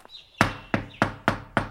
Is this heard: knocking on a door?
yes